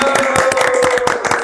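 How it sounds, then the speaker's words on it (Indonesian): A small group claps hands at the opening of a podcast, a short, thin patter of uneven claps that sounds close and not very lively. "Tepuk tangannya kurang rame."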